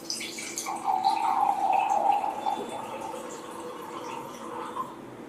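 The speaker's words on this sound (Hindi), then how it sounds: "अब यही तीनों में हम हमारा अल्कलाइन एक्वावेदा जो पोर्टेबल जार है उसका पानी ऐड करते हैं" Water poured from a portable alkaline water jar into a container, a steady close splashing trickle that runs for several seconds and then eases off slightly.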